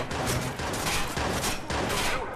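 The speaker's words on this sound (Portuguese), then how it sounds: "Agora eu vou ter que matar vocês no tiro." Rapid gunfire in Watch Dogs, bursts of overlapping shots crackling in quick succession, loud and dense with brief dips between volleys.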